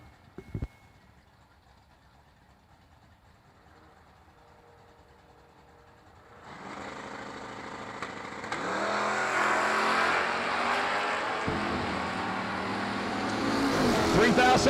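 An Oldsmobile drag racing car launches at a drag strip: after a quiet start with a faint announcer voice, a loud engine roar surges in and builds, staying heavy and close to the end.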